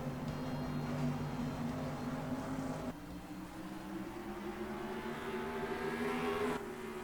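Pack of stock cars in the NASCAR Racing 2003 video game at Stafford Motor Speedway, engines droning together in a steady layered hum that shifts pitch partway through as the field accelerates toward the start.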